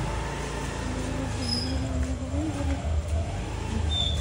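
A car's engine runs steadily and close by while the car is eased out of a tight parking spot, with a constant low rumble and slight revving.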